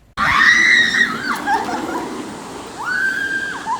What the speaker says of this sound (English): Here's me screaming for my life because I realize I've been dropped 70 feet from the air.